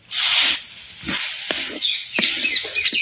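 Chopped tomatoes hit hot oil in a pan for a Chettinad dry mutton curry, giving a steady loud hiss and sizzle with a few sharper crackles and spits throughout.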